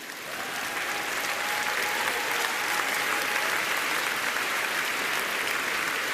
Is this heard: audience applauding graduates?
yes